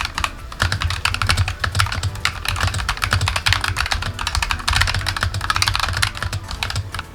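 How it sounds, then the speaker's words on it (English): Steady, rapid typing on a Razer Huntsman TE mechanical keyboard with red linear optical switches, a dense run of close, crisp clacks filling the whole stretch with no voices. "it just has a really nice mechanical keyboard sound to it"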